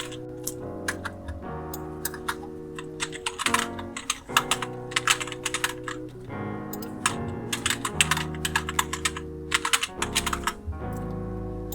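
Someone types a password on a computer keyboard: quick, irregular clicking keystrokes close up, with brief pauses between bursts and no talking.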